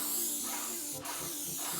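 An airless paint sprayer sends out paint in a continuous loud hiss, close by, with a brief break near the middle as the trigger is released and pressed again.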